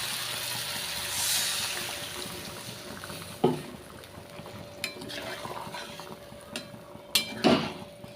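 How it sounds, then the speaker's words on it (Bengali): Water splashes into a pot of potato curry (alur dom) over a steady sizzle, followed by a few sharp knocks and clatters of a utensil against the pan, close and loud, with no voices. "আমি ফাইনালি জল দেবো।"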